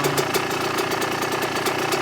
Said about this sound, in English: I set the idle pretty low.